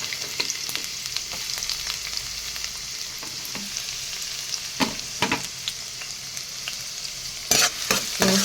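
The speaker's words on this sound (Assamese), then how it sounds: "ইয়াতে এতিয়া মই তেলখিনি গৰম হোৱাৰ লগে লগে পিঁয়াজখিনি ঢালি দিছোঁ।" Onions tipped into hot oil in a pan for a soyabean paratha dish fry with a steady sizzle, broken by a few louder scrapes and stirring clatters close by.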